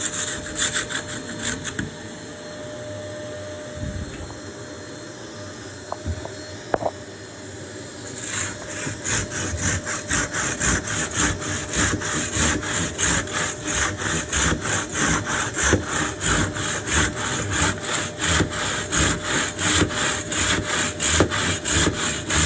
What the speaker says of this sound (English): Sawing through block work with a block saw.